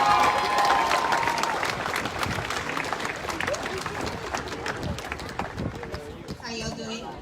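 An audience at a Rochester, Minnesota public school event claps and cheers to welcome a speaker, loud at first and gradually thinning, with shouts and crowd chatter mixed in.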